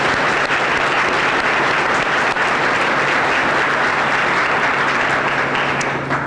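A banquet hall audience at a Girl Scouts honor banquet applauds continuously, a dense, loud, even wash of many hands clapping together without pause throughout.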